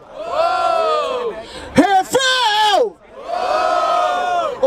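A crowd at an outdoor rap battle in Barueri, São Paulo, roars and shouts in long sustained bursts, with a sharp whooping peak in the middle and raised voices surging loud and close.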